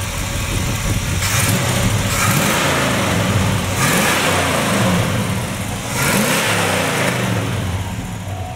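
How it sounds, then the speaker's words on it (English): A 1967 Chevy Chevelle SS 396 engine idles loudly close by and is revved several times, each blip swelling into a rough, throaty roar before settling back. "Can you rev it up by grabbing it?"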